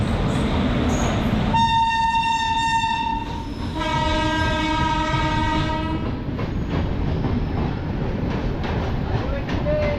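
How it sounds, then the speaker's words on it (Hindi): The Ahmedabad Prayagraj Express runs through Kareli station without stopping, sounding a long loud two-tone horn blast while its wheels clatter steadily along the rails close by. "अहमदाबाद प्रयागराज एक्सप्रेस जो है करेली को स्किप कर रही है।"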